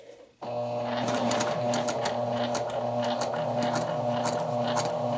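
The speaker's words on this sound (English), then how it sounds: "I'm going to use the stitching guide, the seam guide on my sewing machine." A sewing machine runs steadily and loudly from start to finish, stitching a bias tape neckline facing, its rapid mechanical stitching chatter continuous after a brief quiet opening.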